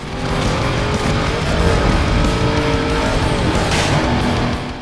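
A race car launching hard in Need for Speed: Most Wanted, its engine roaring loud and steady with rising whine and tire squeal under the revs, sustained for a few seconds before easing off.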